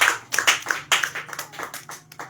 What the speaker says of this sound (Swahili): Mpe Bwana sadaka nzuri ya makofi.